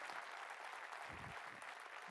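An audience in an assembly hall claps loudly for Maharaj, a dense continuous round of applause with a faint voice briefly audible underneath.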